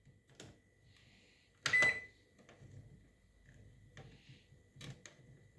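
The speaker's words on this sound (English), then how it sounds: "now I'm gonna start the microwave from here" A Cecotec 3D Wave Proclean 5120 microwave oven being started: a loud beep among several clicks and button presses, then a faint running hum with more clicks at intervals.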